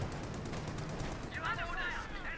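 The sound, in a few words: machine gun fire and artillery in Company of Heroes 2 video game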